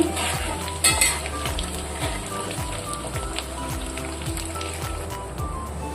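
Taro root (colocasia) pieces fry in a pan with a dense crackling sizzle while a spoon stirs them in soft rhythmic scrapes and clinks, close and continuous with no speech.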